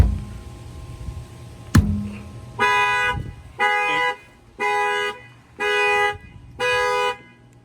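A Chevy Camaro's anti-theft alarm is set off by a single bang on the rear tire, then answers with five evenly spaced loud horn honks, close by in a quiet setting.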